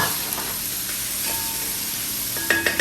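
Onions sizzle in a hot uruli pan on the stove, a steady close crackling hiss that runs throughout, with a few light utensil clinks against the pan near the end.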